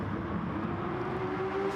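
Race cars in a Gran Turismo video game race, a steady engine drone with a rising whine as a car accelerates, moderately loud and without voices.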